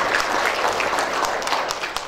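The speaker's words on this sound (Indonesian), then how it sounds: "Berikan tepuk tangan bagi Tuhan." Church congregation applauding during a worship service, a steady dense wash of clapping that fills the whole moment without pause, with faint speech mixed in beneath.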